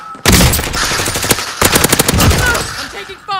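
Bursts of automatic gunfire in the video game Call of Duty Warzone, loud and close. A dense rattling volley is followed by a second burst of rapid shots after a short pause.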